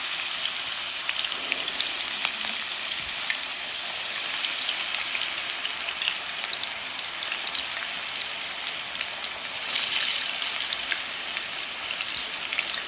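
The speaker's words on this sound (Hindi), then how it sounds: "हमने ऑयल गरम रख लिया है और इसको फ्राई करेंगे" Chicken drumsticks fry in hot oil over a moderate flame, giving a continuous dense crackle and hiss like light rain, close and even throughout with no voices.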